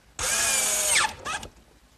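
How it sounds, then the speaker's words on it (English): A power drill drives screws into a wooden bookcase base: one loud whine of about a second, then a shorter second burst as the screw seats, followed by quiet. "Okay, a few screws, and that'll hold the base in place."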